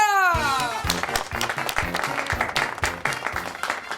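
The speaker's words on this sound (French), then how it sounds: "Applaudissez tous aveuglément et sans réfléchir" Applause breaks out from a stage revue audience in Québec, dense clapping filling the space right after a sustained tonal note ends; strong low rhythmic thumps, likely music, pulse underneath throughout.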